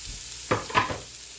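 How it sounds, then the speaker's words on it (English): Chopped large onion goes into a hot pan for a Mexican lasagna, giving two short, close bursts of sizzling and stirring over an otherwise quiet background. "I have a half of a medium onion, or a large onion rather, chopped. I'm going to put that in my pan."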